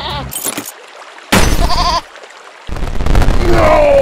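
In the Game of Nothing video game, a goat gives loud, wavering bleats in separate bursts, broken by abrupt cuts and glitchy noise, with a final quavering cry near the end.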